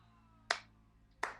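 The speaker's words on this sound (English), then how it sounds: "It was such a good slow clap" Two crisp, isolated hand claps about three quarters of a second apart, close and sharp against near silence, forming a slow clap.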